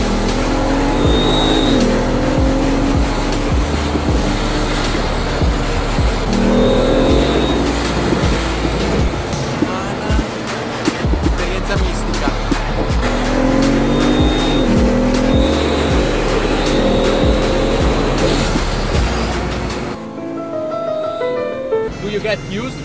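A Bugatti sports car accelerating hard, its engine roaring loud and close with rising and falling surges and occasional high whines, while people talk over it inside the cabin.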